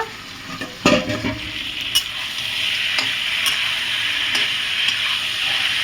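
Country chicken meat sautéing in a pan for a red curry, a steady close sizzle with occasional scraping and tapping strokes of a spatula stirring the pieces, no talking.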